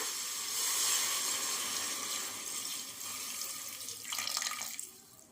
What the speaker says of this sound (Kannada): ಸೊ ಇಲ್ಲಿ ಕಾಲು ಮುಳುಗೋಷ್ಟು ನೀರು ಹಾಕೋಣ